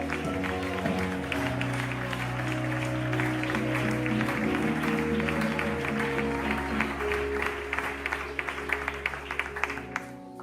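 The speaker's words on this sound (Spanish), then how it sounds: "Dale un fuerte aplauso." Congregation in a church applauding, with steady continuous clapping from many hands layered over loud sustained music throughout.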